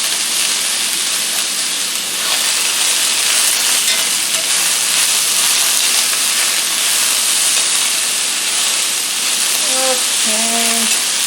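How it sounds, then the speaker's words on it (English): Sliced summer squash sautéing in hot oil in a pan gives a steady, loud sizzle and hiss that continues unbroken, with a few faint clinks near the end. "The sizzling slows down somewhat."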